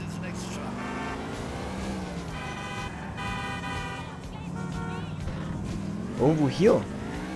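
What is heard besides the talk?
car engine driving in GTA 4 video game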